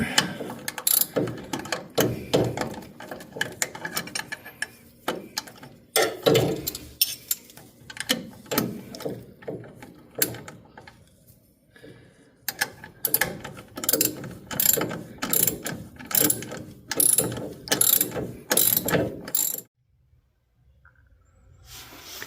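A hand ratchet clicks in rapid bursts while tightening a 7/16 bolt and nut on a lower ball joint during a 1965 Chevelle front brake job, with short pauses between the strokes.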